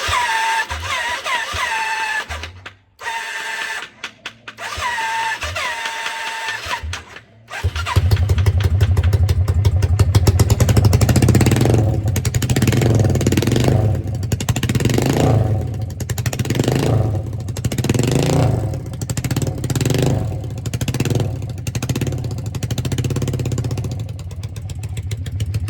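A Yamaha Virago 535 motorcycle engine turns over with a few short cranking attempts, then fires up and settles into a loud, steady idle with uneven pulsing revs; its front cylinder is not firing.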